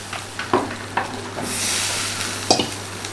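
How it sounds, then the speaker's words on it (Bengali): Eggplant pieces go into a pan of frying potatoes and vegetable stems, with a steady sizzle in oil and several sharp scraping stirs of a spatula against the pan. "আলু আর ডাঁটাটা ভাজা হয়ে গেছে। এবার এর মধ্যে এই বেগুনগুলো দিয়ে দেবো।"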